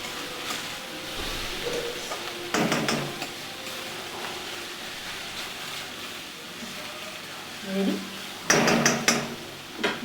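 A lid goes onto a pan of cooked red amaranth on a gas stove, with a couple of sharp metallic clanks and clatters standing out over quiet kitchen background.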